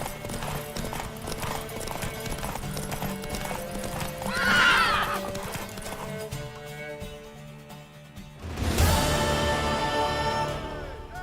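A horse in The Witcher 3 video game whinnies loudly partway through and again near the end, over steady, fairly close hoof clip-clops and a busy game background, without speech.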